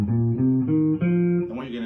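A guitar plays a quick run of pentatonic scale notes in groups of six, the clear picked tones stepping up and down in a steady rhythm over two seconds, close and alone.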